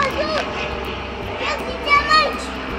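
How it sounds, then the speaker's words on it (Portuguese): An airplane drones overhead in a steady low hum while children talk and play nearby at a swimming pool. "E avião passando. Deixa o avião passar."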